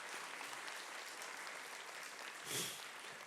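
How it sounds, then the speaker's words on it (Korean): A congregation at a Korean Sunday church service claps for the fathers in a soft, distant, steady patter of many hands, with one slightly louder swell near the end. "엄마들은 이 아빠들을 위해서 한번 뜨거운 박수를 격려해 주시고 앉아주시기 바랍니다."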